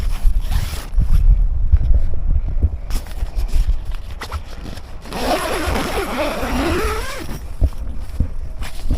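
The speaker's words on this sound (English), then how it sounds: "Two zips, one along the door there, one along the bottom of the door here." A zipper on the door of a three-second pop-up tent is pulled open in long rasping strokes, close and fairly loud, after some rustling of fabric.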